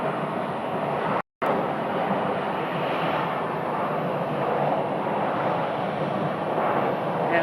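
An airliner arriving at Phoenix Sky Harbor Terminal 4 produces a steady broad jet roar, moderately loud and continuous, with one brief dropout.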